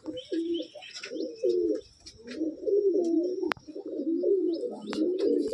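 A small pigeon coos close by in repeated soft, throaty phrases, with a few faint chirps and one sharp click.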